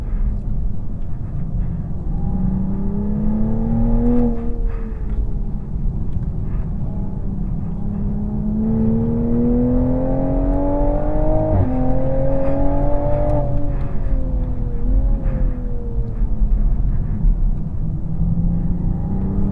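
Toyota Supra engine on the Interlagos race circuit, a loud continuous drone that climbs and falls in pitch through several rev sweeps and gear changes, steady and close throughout with no talk.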